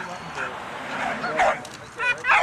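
A dog barks and yips several times in short bursts, fairly close, mixed with people talking nearby.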